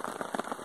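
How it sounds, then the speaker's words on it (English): Rain patters steadily on a tent on a backcountry trail, a close, dense drumming of drops with brief louder bursts and no voices. "I don't know how long this rain's gonna last."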